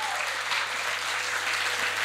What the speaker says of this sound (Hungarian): Szóljon a taps a Szilágycsehi Berekenye diák színjátszó csoportnak és művészeti vezetőjüknek, Bodea Györgynek.